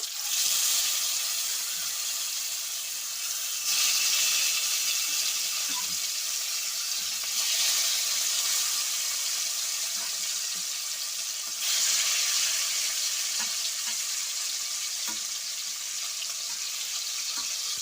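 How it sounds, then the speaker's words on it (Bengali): Rohu fish pieces fry one by one in hot oil in a wok, a steady broad sizzle running throughout with faint pops and slight swells in intensity, fairly close and alone. "তো এখানে কিন্তু তেলটা গরম হয়ে গেছে, তো এবার আমি একে একে মাছগুলো ভেজে নেব।"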